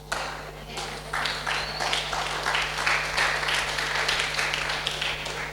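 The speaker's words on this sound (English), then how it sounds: "Those who didn't believe also clapped." An audience at a church sermon in Dubai claps in a scattered, uneven patter of hand claps that continues steadily for several seconds over a low electrical hum.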